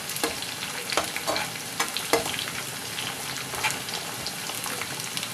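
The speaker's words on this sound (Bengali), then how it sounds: "পেঁয়াজের সঙ্গে আমি বড়িটাও দিয়ে দেব, বড়িটাও ভেজে নেব।" Onion and lentil bori frying in a pan, with a steady hiss of sizzling broken by several sharp scraping stirs of a spatula, close and fairly loud with no talking.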